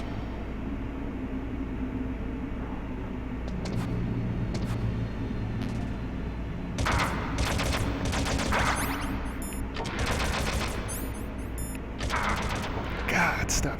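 Enemy gunfire in a Metal Gear game sounds as intermittent bursts of shots over a steady low game rumble, clustering louder in the second half, with a voice talking at times.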